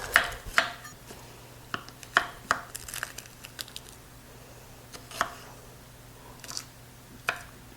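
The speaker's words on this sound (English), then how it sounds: "We're going to chop half of an onion." A knife chops through half an onion on a board in a quiet kitchen, giving a close, irregular run of sharp taps with short pauses between strokes.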